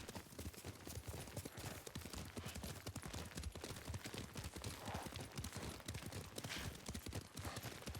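Fast, rhythmic clip-clop of galloping horse hooves in Ghost of Tsushima, steady and close, with a busy background of game ambience.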